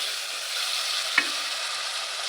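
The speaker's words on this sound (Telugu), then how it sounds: "ఉల్లిగడ్డ వేసుకొని కలుపుకోవాలి." Onions frying in about three spoons of oil, a soft steady close sizzle with a single brief clink of the stirring spoon midway, no talk.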